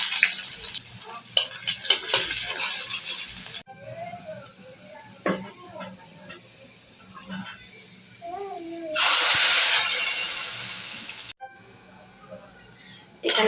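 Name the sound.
garlic and onion frying in oil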